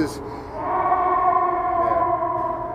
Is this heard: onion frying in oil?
no